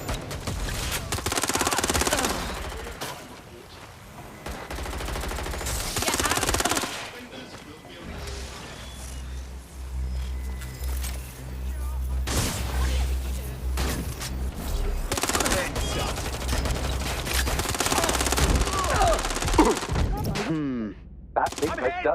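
Gunfire in Watch Dogs: Legion comes in loud bursts of rapid shots separated by quieter stretches with a low droning backdrop and game sounds.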